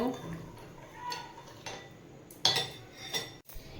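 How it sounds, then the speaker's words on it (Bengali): A spoon clinks and scrapes in a bowl while tamarind water is mixed with lemon juice, with uneven taps and a few louder knocks. There is light background noise and no clear speech. "এই যে তেঁতুল জল করে রেখেছিলাম এর মধ্যেও একটু লেবুর রস দিয়ে দেব আবারও মিশিয়ে নেব"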